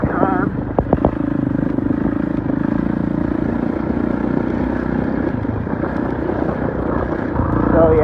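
A Kawasaki KX 450 dirt bike engine drones steadily while riding on a trail, a loud continuous rough roar with a few sharp knocks at the start.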